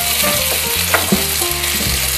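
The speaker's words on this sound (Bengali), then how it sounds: "এবার আমি বাকি টিক্কাগুলো দিয়ে দিলাম।" Paneer tikka pieces frying in hot refined oil on a tawa, a loud, dense, continuous sizzle with occasional spatula clicks close by, no voices.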